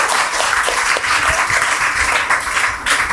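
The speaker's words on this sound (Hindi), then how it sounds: "एक बार सर के लिए भी जोरदार ताली होनी चाहिए" Steady, dense applause from a quiz-show audience in a school setting, loud and continuous throughout without a break.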